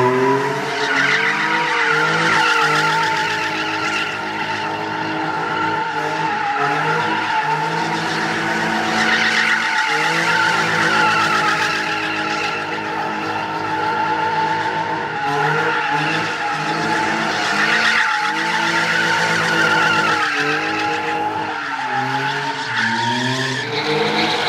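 Cars drift at a legal practice spot near Kraków, engines revving hard and tires squealing in long, loud skids that rise and fall repeatedly over about twenty-five seconds.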